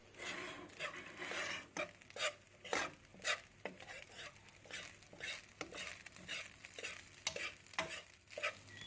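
Lobster fried rice with green onions, Jamaican style, stirred and tossed in a hot pan, giving a steady sizzle and rhythmic scraping strokes, close and moderately loud.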